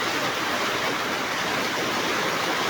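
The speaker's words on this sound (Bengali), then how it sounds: "বৃষ্টি হইতেছে অনেক।" A heavy downpour drenches a market street, producing a continuous roaring wash of rain that holds steady and loud throughout without pauses or voices.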